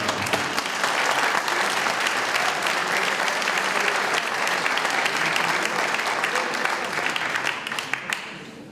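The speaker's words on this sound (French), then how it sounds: "Vous pouvez aussi l'applaudir." Sustained audience applause at a mayor's New Year address in France, a dense, loud wall of many hands clapping that holds steady for several seconds before tapering off at the end.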